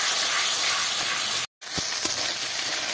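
Spice paste with cinnamon, cloves and cardamom sizzles in a pan after water is added, a loud steady hiss filling the space, broken by one brief silent cut, then resuming with faint clinks, no talk.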